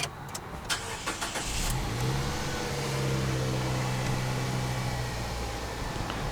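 A Nissan Cube's engine idles steadily while warming up after a CVT fluid and filter change, with a low continuous hum and a few brief clicks and knocks at the start.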